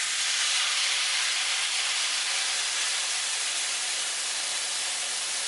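Broth poured from a container into a hot pot of chicken and vegetables, a steady, even rush of hissing liquid that carries on at constant loudness the whole time, close by with no talking.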